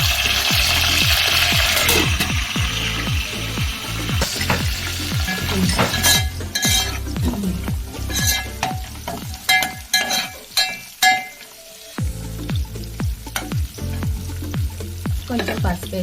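Curry leaves, green chillies and onions fry in a pan with a steady loud sizzle, while a spatula stirs and scrapes the pan in repeated rhythmic strokes. The sizzle briefly drops quieter before the stirring picks up again.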